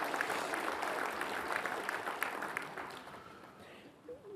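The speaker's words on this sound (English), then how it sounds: "a big round of applause to our network of accredited practitioners" Audience applause fills a conference hall, a dense steady patter of many hands clapping that gradually thins toward the end.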